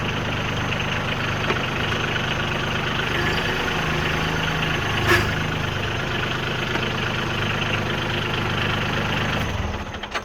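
A Branson 2500 tractor engine idles and pulls forward, giving a steady, close, low diesel rumble that holds level throughout before easing off at the very end.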